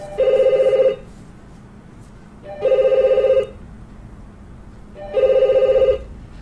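A telephone bell rings three times in steady, evenly spaced bursts of about one second each, loud and close, with quiet room noise in the pauses and nobody speaking.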